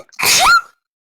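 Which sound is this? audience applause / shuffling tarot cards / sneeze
sneeze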